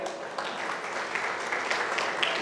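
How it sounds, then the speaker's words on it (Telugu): An audience at a school get-together claps steadily and loudly, a dense wash of applause filling the whole stretch without pause. "మా అందరం కూడా ఒకసారి గట్టిగా క్లాప్ చేయాలి."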